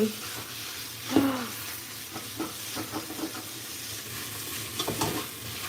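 Food sizzles steadily in hot oil while a utensil scrapes and stirs the pan in irregular strokes, fairly quiet and close.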